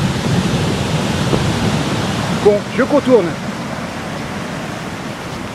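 Indian Ocean waves washing onto a sandy beach make a steady, broad surf hiss throughout, with a voice speaking briefly near the middle.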